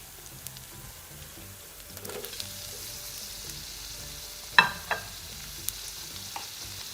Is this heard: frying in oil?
yes